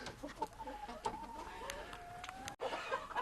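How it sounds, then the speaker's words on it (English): A small silkie hen clucks in a chicken pen, soft repeated clucks and calls over a busy background of other fowl, fairly close, with one brief dropout near the end. "a little silky hen."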